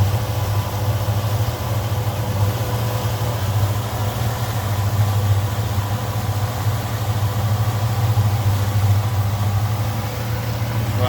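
Boat engines running steadily while cruising on a river between Cathlamet and Puget Island, a loud continuous low droning rumble with an even, unbroken tone throughout and no talking.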